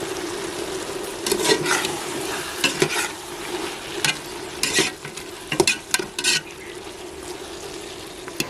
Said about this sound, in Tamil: அந்த பச்சை மிளகாய் அது கூடயே சேர்த்து நல்லா ஃபுல்லாக மிக்ஸ் பண்ணி விட்டுடலாம்